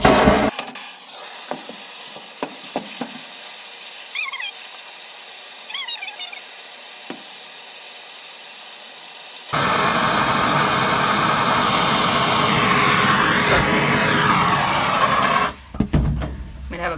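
A heat torch is applied to the transaxle of a 1958 pressed-bumper VW bus. Faint squeaks and clinks give way to a loud, steady roaring hiss that runs several seconds before cutting off.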